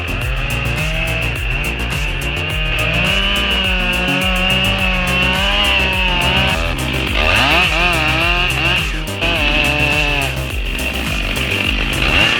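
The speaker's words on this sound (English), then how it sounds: "Watch as his 5 horsepower saw gets the job done." A big 5-horsepower chainsaw cuts through tall trees in a forest, giving a loud, continuous buzzing engine drone whose pitch wavers as the blade bites into the wood.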